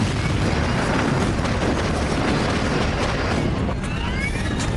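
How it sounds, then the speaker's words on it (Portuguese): Loud rumbling bang-like roar from the right engine of an airliner in a compressor stall, a continuous heavy low booming wash with no clear separate pops, sounding close and dense. "É óbvio que o barulho vem do motor direito. Parece sério. Acho que é um stall do compressor."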